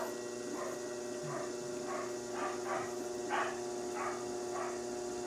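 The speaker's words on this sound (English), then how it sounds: "Sorry about the barking dogs in the background." Several dogs bark intermittently in the distance during pottery wheel throwing, short yaps spaced through the clip over a steady low hum.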